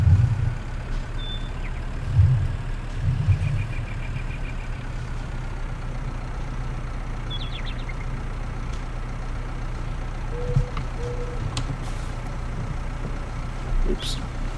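A tractor engine labouring uphill in Farming Simulator 19, a low steady drone with deep rumbling throughout and a few short bumps and clunks, continuous and fairly loud.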